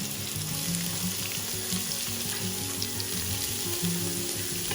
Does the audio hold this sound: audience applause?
no